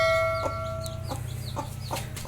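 A hen on a small farm with chicks clucks softly and close by, giving about half a dozen short, evenly spaced clucks over a low background hum.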